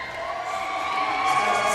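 Roller derby crowd at a championship bout in a big arena, a steady wash of cheering and whooping that swells a little toward the end.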